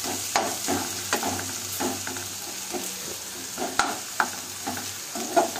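Chicken masala with salt being stir-fried in a pan, with scraping spatula strokes at an irregular rhythm over a steady close sizzle, and no talking.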